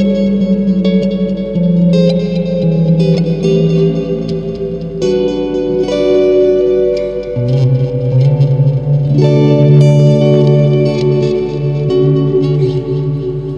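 An electric guitar plays melodic phrases through a NUX Atlantic NDR-5 multi delay and reverb pedal, set with little delay and heavy reverb, so each note rings and blends into a wash of echoing sustain, loud and continuous throughout without talking.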